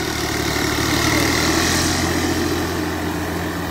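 A tractor fitted with a GS Turbo Moga turbocharger idles steadily and loudly close by, a continuous low rumble with no break and no talk over it.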